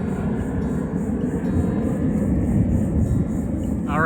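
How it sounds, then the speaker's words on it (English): Jet aircraft passing overhead near an Air Force base, a steady broad low roar filling the whole stretch at moderate loudness, heard outdoors on a walk toward a beach. "that is a jet. There's an Air Force base not too far from here"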